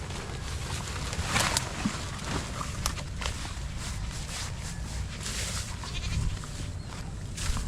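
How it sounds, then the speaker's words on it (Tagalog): Goats on a farm during an eggplant harvest: scattered bleats among rustling and footsteps, moderately close, over a busy outdoor background with no clear talking. "Oh, yung kambing mo."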